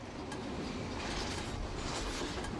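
A train runs on rails, its steady rolling clatter and rumble filling the whole stretch at a moderate distance, with no voices.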